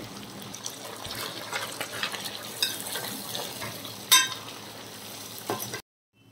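Spices fry in a pan for prawn pickle, giving a continuous crackling sizzle broken by stirring scrapes and a sharp clink near the end before the sound cuts off abruptly, with no voices.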